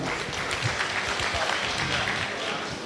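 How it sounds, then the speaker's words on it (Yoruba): An audience at a peace meeting of Oyo State transport unions and security officials claps together, a steady wash of applause from a crowded hall with a few sharper claps standing out, and no talk on top. "ẹ jọ̀ọ́ ẹ bá ń pàtẹ́wọ́ fásípa o"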